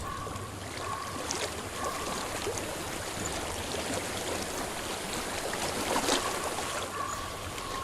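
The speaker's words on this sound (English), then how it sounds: "I hear water." A flowing stream in the video game Hellblade: Senua's Sacrifice gives a steady, even rush of water throughout, moderately loud and alone without any voices.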